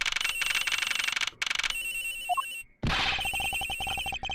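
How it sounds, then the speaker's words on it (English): Telephone ringing in the video game Ace Attorney Investigations, a loud electronic ringtone repeating in steady bursts with brief pauses, then a rising chime and a sharp swoosh before the ring resumes. "The ringing's coming from somewhere in here, sir."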